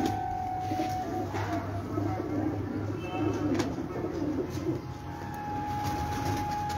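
A prized old racing pigeon on a rooftop coos in soft, low repeated calls at close range, with a steady background hum and no talking.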